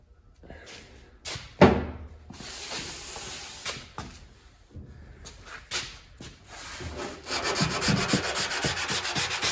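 Sanding body filler on a car's bodywork, steady abrasive rubbing strokes with a few knocks and pauses, building to continuous scrubbing near the end, close and fairly loud.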